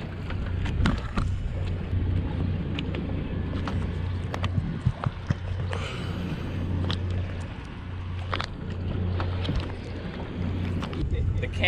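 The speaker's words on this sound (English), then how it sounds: "I got the motor in reverse." An offshore fishing boat's outboard motor runs in reverse, a low steady rumbling hum with wind buffeting the microphone, clicks and splashes, and voices talking now and then.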